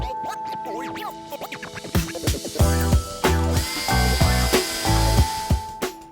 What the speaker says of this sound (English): First, insert the two upper links and screw them on.